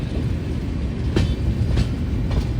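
The Venkatadri SF Express, running from Chittoor to Kachiguda with new LHB coaches, rolls past with a loud steady rumble and a few sharp, evenly spaced wheel clacks.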